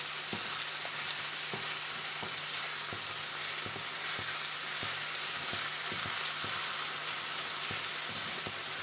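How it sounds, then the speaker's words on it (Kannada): Paneer being stirred and fried with masala on a tawa gives a steady, close sizzle, with soft scraping strokes of a spatula ticking at a regular beat throughout. No one speaks. "ಪನ್ನೀರ್ ಹಾಕಿ ಇದೆಲ್ಲವನ್ನು ಮಿಕ್ಸ್ ಮಾಡುವ"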